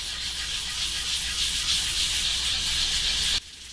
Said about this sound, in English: We're going to use some 320 grit sandpaper here.